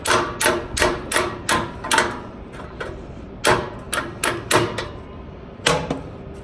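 Broken exhaust expander tool used as a hammer, striking in quick uneven bursts of sharp metallic knocks, close and fairly loud, with short pauses between groups of blows.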